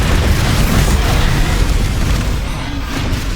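Bombarda explosion spell cast in the Hogwarts Legacy video game, a loud sustained blast rumble with dense low-end roar that stays heavy and constant throughout, with no voices.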